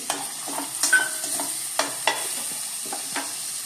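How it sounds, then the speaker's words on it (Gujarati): Green peas being added to a hot pan and stirred while making Mumbai-style bhel give a gentle sizzle under several close, scraping stirs spaced about half a second apart, without any voices. "હવે આપણે વટાણા નાખી દઈએ"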